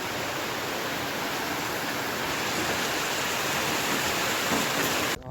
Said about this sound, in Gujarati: હમણાં વરસાદ આવ્યો હતો અને અત્યારે મજા ઝરફર ચાલુ થઈ ગયો છે